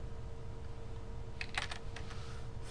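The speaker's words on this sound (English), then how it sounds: "You can just start typing" Short burst of keystrokes on a computer keyboard during spreadsheet entry, a quick cluster of clicks in the second half over a steady low hum, fairly quiet and close.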